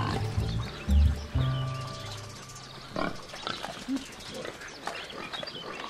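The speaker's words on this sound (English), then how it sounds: "These pigs spend the whole year in the forest, feeding off roots, worms, fish, and grass." Pigs root and grunt in a flooded forest pasture in Croatia, giving a few loud, close snorts and oinks early on, then scattered softer grunts over ambient outdoor sound while someone talks.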